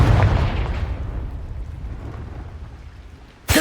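A Confringo spell explosion in a Harry Potter video game sounds as a loud, rumbling blast that decays slowly over a few seconds, followed by a sharp new burst at the end.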